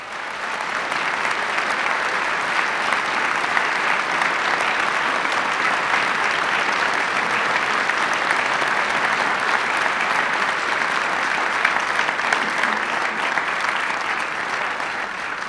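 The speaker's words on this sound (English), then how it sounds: "Could we give them a big round of applause for all of these dealers?" At a national quality dealer of the year awards ceremony, an audience applauds past award recipients with sustained, dense clapping that holds steady and loud for around fifteen seconds, no speech over it.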